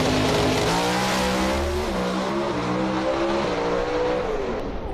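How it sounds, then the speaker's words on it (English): An NHRA Pro Stock drag race car at the 2018 Southern Nationals roars hard through its gearbox, with rising engine pitch that drops at each shift. The sound is loud, continuous and close, with no talk. "An opportunity for you to crank it up now as Greg Anderson goes through the gearbox"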